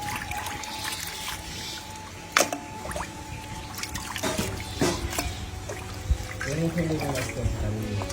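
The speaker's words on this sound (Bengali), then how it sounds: "মাংসগুলো ভালো করে কেটে ধুয়ে নিচ্ছি আমি।" Cut meat being washed in water in a home kitchen: close trickling and splashing with clattering handling knocks and a steady background hum throughout.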